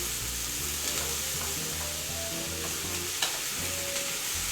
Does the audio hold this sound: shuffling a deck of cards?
no